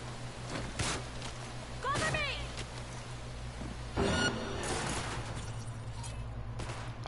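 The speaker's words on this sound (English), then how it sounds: "you're shooting at me now, so stop doing that, please" Police gunfire in the video game Cyberpunk 2077: several sharp bursts of shots break out at intervals over a steady low game hum, mixed with someone talking.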